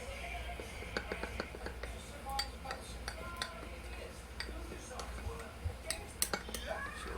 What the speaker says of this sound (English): Take our spoon, mix it together.